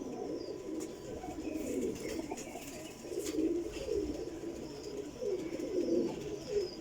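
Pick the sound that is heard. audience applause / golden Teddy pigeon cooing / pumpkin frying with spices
golden Teddy pigeon cooing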